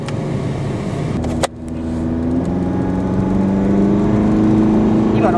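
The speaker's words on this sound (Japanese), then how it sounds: "エンジン始動。" A Toyota Hiace KZH106W van's 1KZ-TE diesel engine with a 4-speed automatic starts with a sharp jolt, then settles into a loud, steady droning idle with a low humming tone that builds slightly over several seconds.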